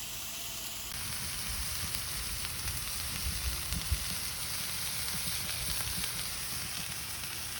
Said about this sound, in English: we're gonna saute these vegetables up